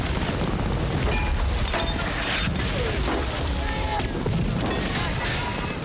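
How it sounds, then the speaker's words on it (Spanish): Loud, dense battle din of rapid German machine-gun fire in a film's beach landing scene, mixed with crashes and booms, continuous and chaotic throughout. "Un grupo de tropas aliadas se sumerge en el agua para evitar los disparos de las ametralladoras alemanas."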